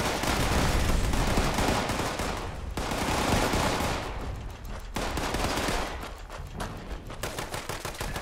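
Rapid pistol fire from a gamma gun in a video game, dense bursts of shots in long continuous runs separated by brief pauses, loud and close.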